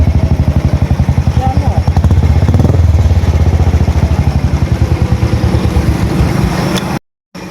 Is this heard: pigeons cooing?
no